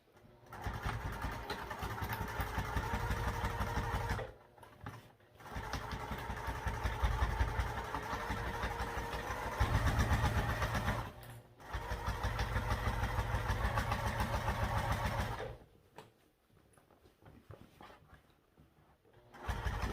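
A sewing machine stitching a seam with a half-inch seam allowance, running in a fast, even whir for several long bursts separated by brief stops.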